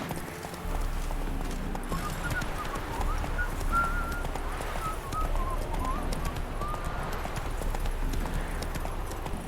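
Hooves of the horse Roach clip-clopping in a steady trotting rhythm from The Witcher 3 video game, with soft whistling tones and ambient outdoor sound, continuous and fairly close throughout.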